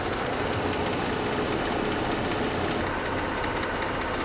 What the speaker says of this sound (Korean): 이게 똑똑 소리가 제가 볼 때는 저쪽 아마 텐션 베어링이나 이쪽 플립 쪽 어딘가에서 나는 소리 같기도 해요